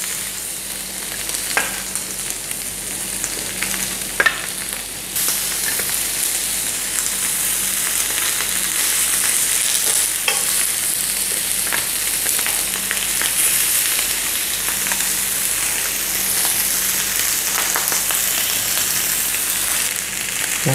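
Double lamb chops on a hot grill pan give off a loud, steady, close sizzle that swells after a few seconds and keeps going with faint crackles and spits, with no voices.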